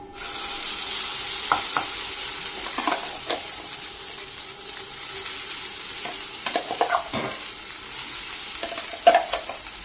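Tempering and ground horse gram chutney paste sizzle in a pan under a steady frying hiss, with repeated scrapes and taps of a spoon stirring, close and without voices.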